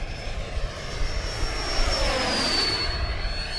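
A Dragon Hobby HSD 90mm Viper RC model jet flies past at full throttle, its loud, steady ducted-fan roar holding a high whine that sweeps downward as it passes, with no talk.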